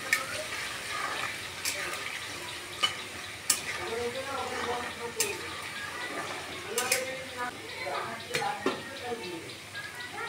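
Sweet potato fries in hot oil as a steady, soft sizzle with occasional sharp ticks and stirring clinks, while someone talks over it in a home kitchen.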